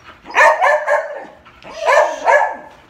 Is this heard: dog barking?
yes